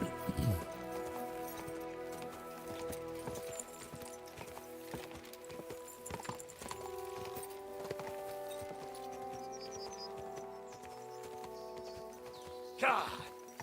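Horse hooves clip-clop steadily in Kingdom Come: Deliverance II as the rider travels, a rhythmic trotting patter under a continuous game music drone, with a louder burst near the end.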